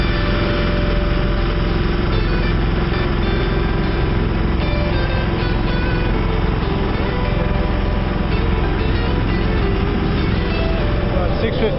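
A sailboat's small engine runs steadily and loudly throughout off Navy Pier, Chicago, a constant droning hum with no pauses, with speech faintly mixed in.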